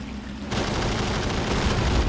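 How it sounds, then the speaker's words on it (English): Howitzer fire in the Men of War: Assault Squad 2 battle game, a sudden loud boom that gives way to a sustained rumbling wash of distant battle noise, with no voices. "it looks like my howitzer took a shot off on these guys"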